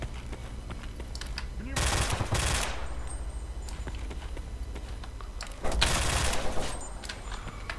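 Bursts of automatic gunfire aimed at the player in the shooter STALKER: Clear Sky, two loud volleys about a second long each, separated by quieter ambient game noise.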